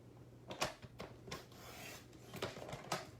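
A paper trimmer slices a leftover piece of cardstock down to a 3/4-inch strip, giving several short, faint scraping strokes of the blade close by, with no voices.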